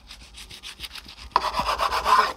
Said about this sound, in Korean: 자, 흥부가 톱질하듯이.